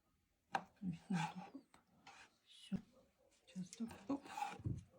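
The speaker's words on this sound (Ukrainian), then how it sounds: "Тепер рапанчик я буду розрізати." Rapa whelks, already cleaned, are sliced in half with a knife in a home kitchen, giving several close, soft cutting and scraping crunches in short bursts, with quiet rustling between them.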